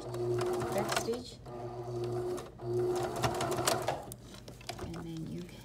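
Sewing machine stitching a fabric face mask, steady mechanical whirring in short runs with brief pauses, close and loud, with someone talking over it.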